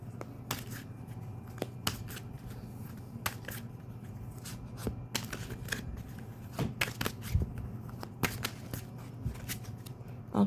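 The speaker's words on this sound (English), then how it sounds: "Okay, I did a quick shuffle." Tarot cards are shuffled by hand in a quick run of crisp, papery riffles and flicks, close and fairly quiet, with a low steady hum underneath and no talking.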